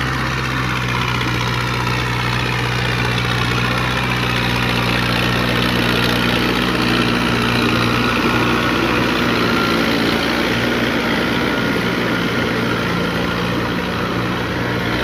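A 2.8 liter diesel engine on an Iseki tiller idles steadily and loudly up close, with a constant low throbbing rumble and mechanical clatter that never changes pace.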